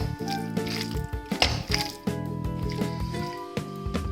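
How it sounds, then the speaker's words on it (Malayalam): Prawns being mixed by hand with Kashmiri chilli masala, giving soft wet squishing and dripping sounds in irregular bursts over steady background music, with no talking. "ഇത്രയും കൈകൊണ്ട് നന്നായിട്ട് മിക്സ് ചെയ്ത് കൊടുക്കുക"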